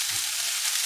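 Vegan bolognese sauce with carrots cooking gently in a pan, a steady soft sizzle and hiss that stays even and alone for under a second.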